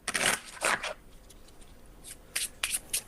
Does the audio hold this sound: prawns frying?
no